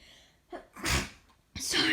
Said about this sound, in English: that kind of sounded like a weird sneeze